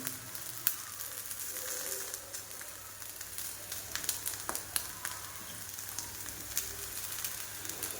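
Thalipeeth made from leftover rice frying in oil, a steady close crackling sizzle with scattered pops running throughout, quiet and with no talk.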